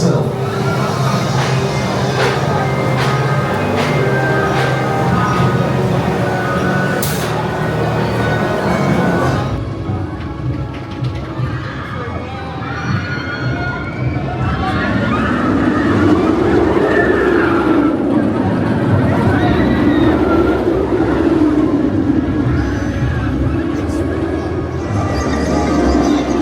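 Stealth roller coaster at Thorpe Park launching: a loud, sustained mechanical roar and rumble that rises and sweeps, with crowd noise and a voice heard over it.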